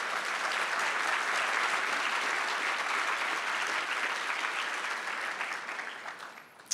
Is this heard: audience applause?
yes